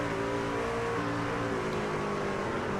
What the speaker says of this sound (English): You can hear the revs even pick up on the back straightaway